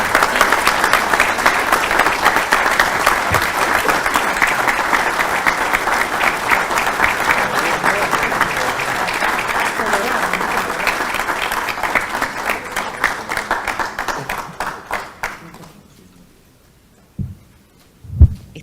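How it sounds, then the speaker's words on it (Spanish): A large audience claps steadily and loudly for about fifteen seconds before the applause dies away into near silence with a couple of knocks. "Así que les pido al doctor Santiago Bordaberry y Emilio Machado un aplauso."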